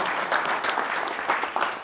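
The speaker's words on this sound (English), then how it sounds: "Let's give her a round of applause" Brief burst of audience clapping for a speaker at a landlord training session on HMO compliance, a moderately loud crowd applause lasting under two seconds with no talk.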